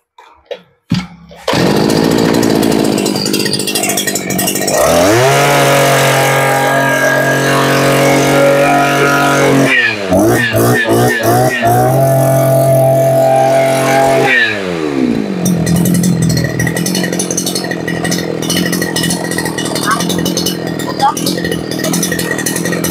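A small Mitsubishi petrol engine, as on a grass trimmer or chainsaw, starts up and runs loudly, its pitch shifting as it revs up and settles, with a steady mechanical drone throughout.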